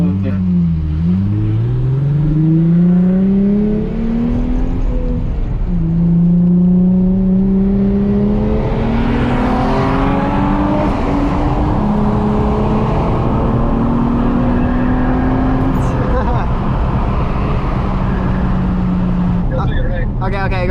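A 2006 Nissan 350Z and a 2020 Honda Civic Si accelerate hard in a street race, engine pitch climbing through gear changes under steady road and wind noise, with a person talking over it.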